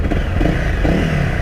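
A Honda CRF 250 Rally motorcycle rides along with a steady, close engine drone and rumble, mixed with wind and road noise and no clear changes in pitch.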